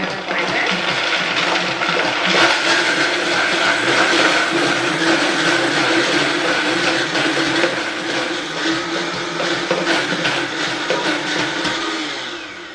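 A Vitamix blender runs on its low setting, a loud, steady mechanical whir with a rattling, grinding edge that holds for over ten seconds and then fades slightly toward the end, with no talk.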